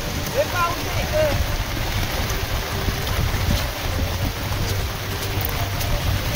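Steady rain pours at Irshal Fort, a dense hiss of drops mixed with gusty wind buffeting the microphone, continuous and close throughout.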